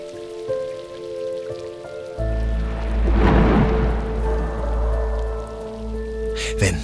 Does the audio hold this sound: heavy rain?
yes